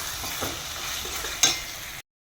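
A paste for Kathiyawadi kadhi, with tomato paste to follow, cooking in a pan. It gives a soft continuous sizzle, with a few scraping stirs and one sharper clink before it cuts off.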